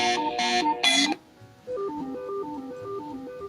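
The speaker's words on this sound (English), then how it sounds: "That's my alarm." A phone ringtone plays: a bright, repeating electronic melody, first in loud bursts, then a softer tune continuing alone.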